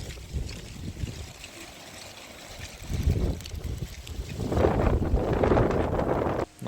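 Wind buffets the microphone during a bicycle tour in southern France, a rough low rumble that swells and gusts louder toward the end, with no voices.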